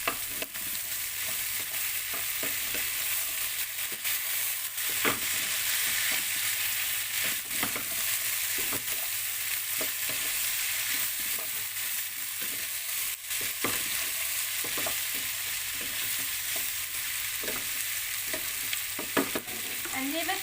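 Vegetables cook in a frying pan with oyster sauce for pancit bihon, with a continuous sizzle under repeated scraping stirs and occasional utensil clacks against the pan. No one speaks.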